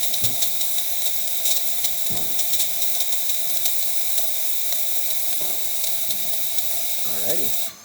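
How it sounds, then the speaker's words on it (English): A DeLonghi Magnifica XS espresso machine after a full service, its pump pushing water through the system with a steady hiss and hum, broken by a few soft clicks and knocks before cutting off at the end. "you would hear the pump slowly pump water through the system"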